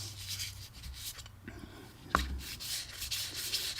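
A clarinet or saxophone reed is lightly polished and smoothed, a soft steady rubbing with faint sanding scratches. A brief sharper scrape cuts in midway, and no one talks.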